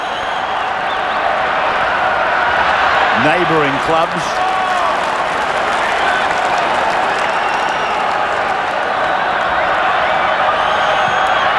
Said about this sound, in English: Encouraged by a big crowd.